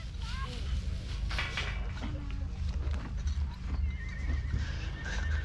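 A horse at the Angus Show, an agricultural show in Scotland, whinnies and snorts close by amid crowd murmur and people talking, with faint hoof clops in a busy outdoor setting.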